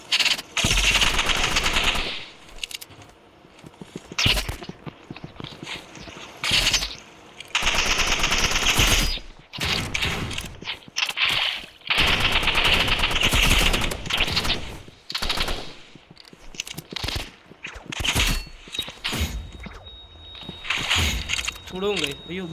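Bursts of rapid automatic gunfire from the Roblox shooter Rivals rattle in long strings with short gaps between them, while players talk excitedly over and around the shooting.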